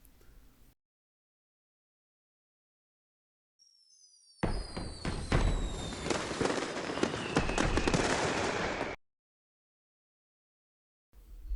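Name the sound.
fireworks in the video game Pokemon X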